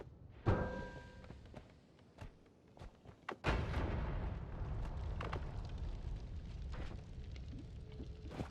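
A homing bomb in Noita goes off with a sudden deep boom, followed by a rumbling explosion and scattered crackling bursts and thuds of debris over several seconds, fairly loud.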